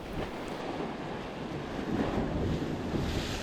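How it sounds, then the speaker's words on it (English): Wind at Jolly Beach on South Australia's Yorke Peninsula buffets the microphone with a constant, fairly loud rush, and surf washes faintly underneath. "The wind was picking up, but it was still on our backs."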